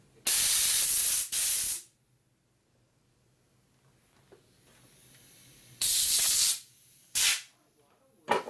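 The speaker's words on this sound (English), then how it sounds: "now we're going to blow the grease out of the hole so I can see where the hole is" Compressed air blasting old grease out of a grease fitting hole on a 1942 Harley-Davidson WLA 45ci chassis: two loud hissing bursts near the start and two more later, with a short puff at the end and quiet in between.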